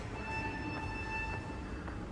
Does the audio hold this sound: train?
yes